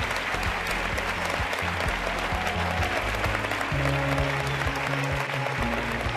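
An audience applauds at a televised fashion show, a steady, full round of clapping that holds for several seconds, with faint music tones running beneath.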